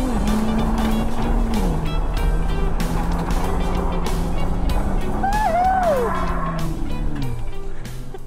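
A 2021 Ford Raptor truck under way, its engine droning loudly and steadily with gear changes shifting the pitch, plus a brief whine partway through, heard from close inside or beside the moving vehicle.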